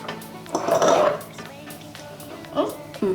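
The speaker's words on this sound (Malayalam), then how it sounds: "ഇത് നന്നായിട്ട് വേഗം ഇളക്കി കൊടുക്കാം" Kashmiri chilli powder stirred quickly into melted butter in a pan, with a couple of loud metallic spoon scrapes and clanks against the pan over a low background hum.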